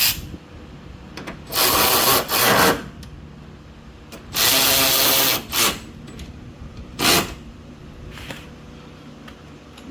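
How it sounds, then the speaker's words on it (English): Bolts on a 2015 Infiniti Q50 headlight being tightened by hand tool in several loud ratcheting bursts with short pauses between, close by and with no talk. "you tighten the rest of the bolts for the light"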